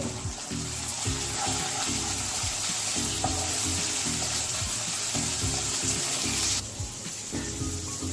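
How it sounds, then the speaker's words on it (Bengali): Ginger frying in a pan for Bengali doi katla, a steady dense sizzle that runs unbroken and fairly loud throughout, with small clinks and stirring scrapes scattered through it and a slight drop in hiss near the end. "এবারে আদাটা দিয়ে আদাটা একটু ভেজে নেব"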